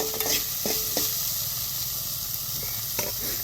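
Vegetables sauté in a pan with a close, steady sizzle. A spatula stirs and scrapes the pan a few times.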